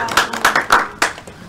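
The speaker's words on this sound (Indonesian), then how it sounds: "Tepuk tangan dong" A small classroom audience claps for a group after a microteaching presentation, a few loud, uneven bursts of hand claps close by that fade toward the end.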